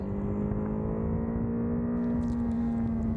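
Ducati Hypermotard 698 Mono single-cylinder motorcycle riding through small villages, a steady, loud engine drone holding a constant pitch under rushing wind, with no talk.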